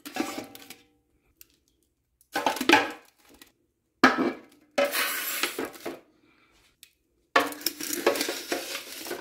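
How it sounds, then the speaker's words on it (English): Bursts of clinking and scraping as glass jars of grain are set into a metal pot with spacers and a trivet, in separate clusters with short silent pauses between. "Now start loading in your jars."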